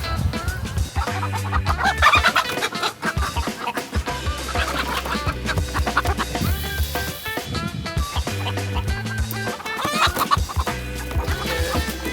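Several chickens cluck and squawk close by in a busy, continuous chatter, with occasional louder calls rising over the flock.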